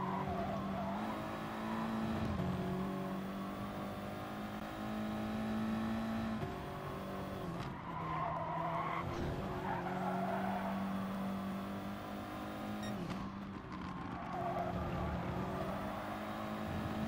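Racing game engine drone from Gran Turismo Sport front-wheel-drive cars, a steady multi-car hum with brief tire skid and squeal bursts as a car spins out on a difficult track.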